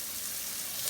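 Salted red bell pepper and jalapeño sauté in a pan with a soft, steady sizzle, faint and brief with no talking.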